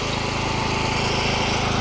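A portable generator runs steadily on a job site for welding PE 100 plastic pipe, its loud engine drone close and constant with no pause.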